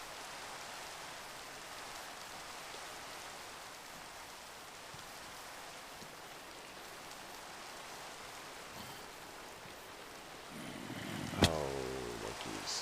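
Rain in the game Towncraft falls as a steady, even hiss of droplets throughout, fairly quiet, with a short sharp tone and a louder swell near the end.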